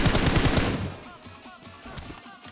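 Bursts of automatic gunfire in PUBG Mobile, loud rapid shots for the first second before fading into quieter scattered noise and faint distant sounds.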